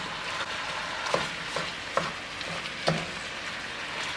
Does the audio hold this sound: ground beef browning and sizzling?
yes